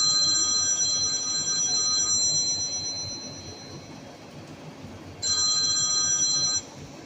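A telephone rings in two bursts of bright electronic trilling, separated by a quiet pause, heard indoors at moderate volume with no talk.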